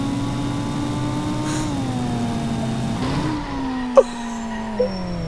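Stolen motorbike engine in the Indian Theft Auto Simulator video game, a steady droning hum whose pitch rises and falls slightly as it runs, ending with a couple of brief clicks.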